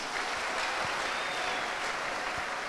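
A church congregation applauds in acclamation of the Lord, a continuous, full wash of clapping that holds at a steady level from start to finish, with no voices breaking through.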